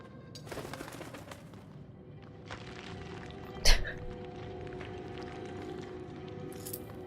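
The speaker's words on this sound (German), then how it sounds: "Ach, ein Rabe." A raven calls in the video game Draugen near a snowy mine, a single cawing cry standing out sharply against a quiet, windy ambient backdrop.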